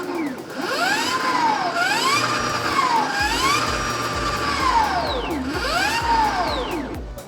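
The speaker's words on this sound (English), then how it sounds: "So that's how this bike sounds." An Ultraviolette F77 Mach 2 electric motorcycle runs up close with a loud, continuous motor whine that sweeps up and down in pitch as it revs, over a low mechanical rumble, with no talking.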